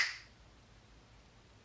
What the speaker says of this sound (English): I snap my fingers because I want it to be like a switch